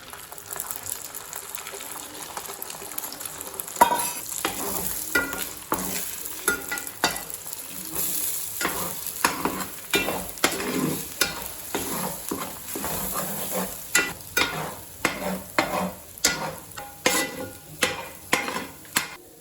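Eggs are scrambled in a hot frying pan for prawn fried rice, a constant sizzle broken by rhythmic scraping and stirring strokes that grow sharper and more regular toward the end, with no talking.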